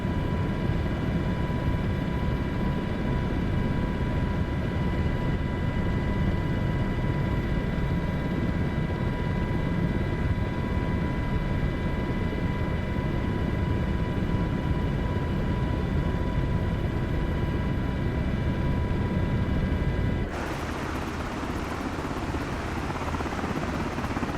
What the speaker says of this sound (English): We're going to try and bring it in for a nice safe landing here.